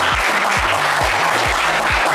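Studio audience on a French game show applauds loudly and steadily, a dense wash of clapping that fills the whole stretch with no talk over it.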